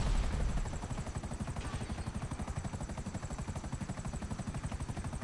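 Helicopter in low-level combat flight in the video game GTA, its rotor beating in a fast, steady, heavy thump that stays loud and close throughout, with no talking.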